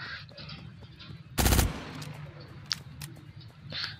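A short, loud burst of rapid gunfire in the video game Cyber Hunter erupts once, followed by a few faint clicks and pops against a quiet background.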